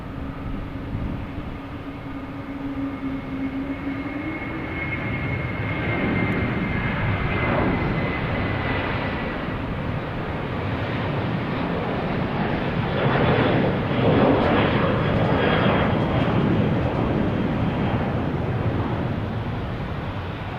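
An Aer Lingus airliner at Boston Logan Airport gives a loud, sustained jet roar with whining engine tones that builds and lingers for about twenty seconds, alone without talk.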